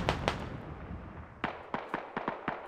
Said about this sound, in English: Rockets coming in.